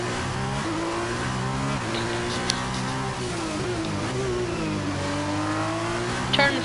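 Simulated Formula race car at the Baku street circuit, its engine droning loudly and steadily with pitch sweeping up through gear changes, then dropping sharply as the car brakes into a corner, with another rise at the end.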